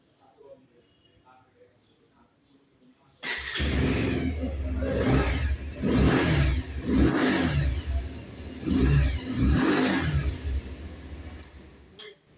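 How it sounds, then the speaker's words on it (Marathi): A Bajaj Pulsar 180 motorcycle inside a showroom starts abruptly after a quiet stretch with faint speech, then idles loudly and revs in four or five rising and falling surges before settling, close by. "आता मी तुम्हाला गाडीचा साऊंड ऐकवतो कसा येतो."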